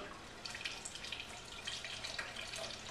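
Water poured into a box during a filtration demonstration, a faint, uneven splashing and dribbling stream lasting a few seconds with no talk.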